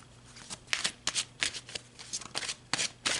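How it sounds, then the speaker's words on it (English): Tarot cards riffle and slide in quick shuffling bursts, close and fairly quiet, repeating in a loose rhythm with brief pauses and no talking. "So let's pull some more cards."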